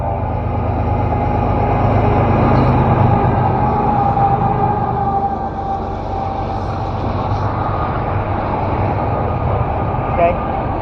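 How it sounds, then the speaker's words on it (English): A train approaches a rural crossing on an ultra-running training route, its low rumble and rolling rails filling the scene steadily, with a faint horn-like tone drifting over the continuous loud drone. "This is a train coming."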